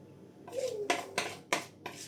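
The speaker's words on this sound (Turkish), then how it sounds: "Şöyle kaşık kaşık döküyorum artık." Batter goes spoonful by spoonful into a baking dish at home, each drop marked by a clear clink of spoon against the dish, four or five sharp knocks in quick succession, close and fairly quiet.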